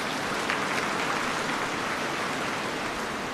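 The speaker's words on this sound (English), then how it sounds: "I think she deserves a second round of applause" An audience at a summit gathering applauds, a dense, even wash of clapping held steady throughout at moderate distance, with no voices standing out.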